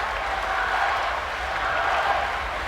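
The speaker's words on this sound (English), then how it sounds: "you can hear the Myanmarese crowd going for Ao." A Myanmar crowd cheers on a swimmer at a para swimming race at the ASEAN Para Games, giving a steady, dense roar of voices and applause that fills the indoor pool space throughout.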